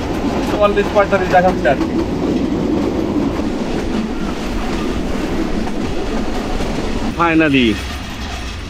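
Kurigram Express passenger train running on the line toward Kurigram, with a steady rolling rumble and repeated clickety-clack bursts from the wheels, plus a brief rising squeal near the end as people talk over it.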